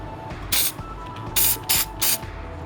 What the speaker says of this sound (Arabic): بخت سبراي زيت هنا